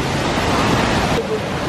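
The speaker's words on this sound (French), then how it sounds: "Et nous voilà à la cascade de Datanla." A loud, continuous rush of falling water at Datanla waterfall in Vietnam, a dense broadband roar filling the scene without break.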